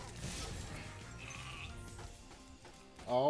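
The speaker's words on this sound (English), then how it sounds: "it's a sheep on stilts" A sheep on stilts in the Spyro video game gives a short bleat over soft game music and ambient effects, followed by a brighter burst of sound at the end.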